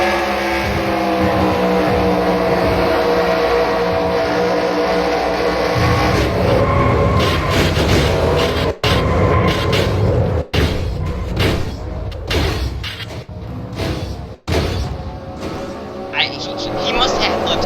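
A race car crashing and tumbling over many times during an American ethanol series race at Atlanta: a loud continuous engine roar, then repeated sharp impacts and thuds as the car rolls, with broadband crashing noise toward the end.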